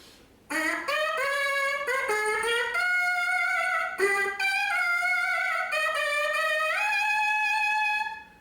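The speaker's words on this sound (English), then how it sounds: "we buzz into a mouthpiece like this." A buzzing brass mouthpiece sounds alone, a few sustained reedy tones sliding between pitches with brief breaks, close and fairly loud.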